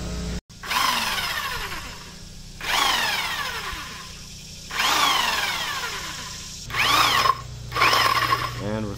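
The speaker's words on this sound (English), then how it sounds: "They're not cheap at all, but they do a great job of drilling through the metal." A step drill bit bores through metal battery boxes in several bursts, each a whining, grinding squeal that speeds up and cuts out, with pauses in between.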